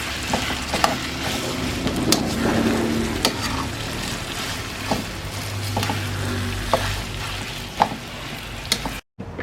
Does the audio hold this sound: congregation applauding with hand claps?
no